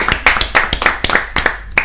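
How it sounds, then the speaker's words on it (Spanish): A small group claps at a launch gathering, with a handful of sharp, distinct hand claps coming close and loud in quick irregular bursts. "También un aplauso para él, vamos a ver."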